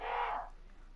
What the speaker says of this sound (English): Are there crows in this house?